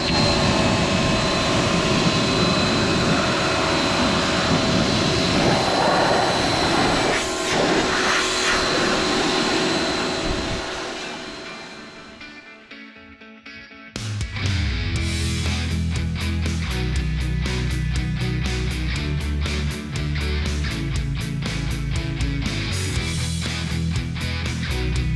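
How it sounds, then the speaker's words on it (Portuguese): Loud, steady hissing spray from a pressure washer cleaning a Chevrolet Opala engine for about ten seconds, fading out before music starts. "partiu agora aí, bater um jato no motor do Opala"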